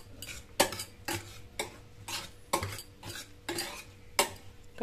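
Omelette batter with about a cup of grated cauliflower being beaten in a bowl, a rhythmic series of about eight scraping, tapping strokes roughly every half second, close and clear with no talking.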